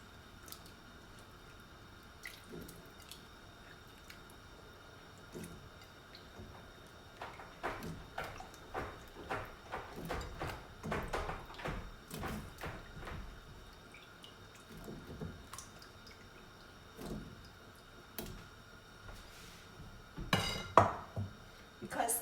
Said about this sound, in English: And then we're gonna add first the potato in here, potato and carrots.